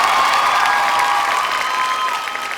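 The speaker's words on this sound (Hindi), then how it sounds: "इनके लिए जोरदार तालियां बनती हैं।" A television comedy show's studio audience breaks into loud applause and cheering for two guests, a dense, continuous roar of clapping and shouts with high-pitched whistles throughout.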